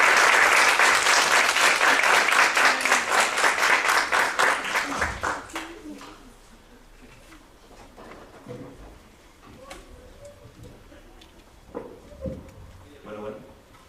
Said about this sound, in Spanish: Les pido un fuerte aplauso para el maestro José Antonio García